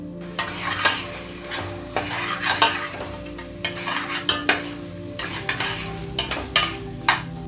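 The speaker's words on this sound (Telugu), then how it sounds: "ఈ మసాలాలన్నీ మటన్ కలిసేదాకా బాగా కలుపుదాం" Mutton sizzling in a pan with turmeric, pepper powder and garam masala as it is stirred, with steady frying hiss and repeated sharp scrapes and knocks of a spoon against the pan, close and loud, with no talking.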